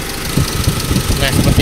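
Small engine running with its ignition switch wire grounded, the rumble climbing in revs over a steady mechanical knock, close and loud, with a person talking over it.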